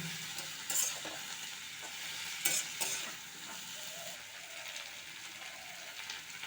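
Pumpkin and vegetable stalks are stirred and fried in a pan: a steady close sizzle with several sharper scraping clinks of the spatula against the pan, no talk.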